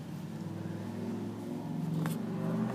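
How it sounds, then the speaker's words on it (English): Steady road traffic rumbles nearby, with a car passing and its engine note swelling slightly toward the end, a continuous low drone with a brief faint clink partway through. "I'm sorry for the traffic noise."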